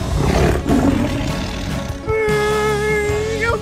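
Cartoon wolf giving a loud, rough growling roar that swells and then shifts into a strained, wavering howl-like tone, close and dominant.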